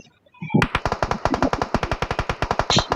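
Rapid automatic gunfire in the video game PUBG, a loud close burst of evenly spaced shots starting after a brief quiet moment and continuing without pause.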